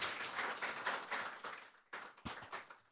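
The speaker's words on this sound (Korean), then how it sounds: "박수 부탁드리겠습니다." Applause from the audience at a Korean business hall-of-fame induction ceremony, quiet and distant, clapping fading out with a few last scattered claps near the end.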